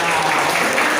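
A classroom of students claps together in a quick burst of applause, dense and even, heard briefly and close.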